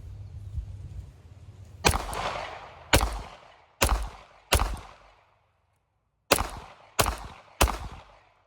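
A Glock 43 pistol fitted with a Mag Guts +2 magazine base plate fires seven sharp, loud shots outdoors, a group of four then a brief pause and three more, each cracking and echoing away.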